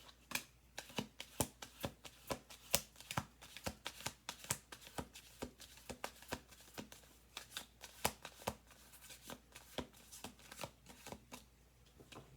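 Tarot cards are shuffled in quick, crisp riffles and slaps, a steady run of sharp papery bursts close by and fairly quiet, with no voices.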